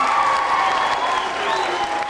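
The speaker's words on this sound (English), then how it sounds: "give a round of applause, man" Dense audience applause at a college event with a celebrity guest, loud and continuous for about two seconds, with faint voices mixed in.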